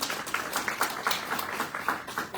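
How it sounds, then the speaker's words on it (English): Audience applause at an event on Indigenous women's leadership, a short burst of many hands clapping in a dense, even patter at moderate level. "So let's give them a round of applause."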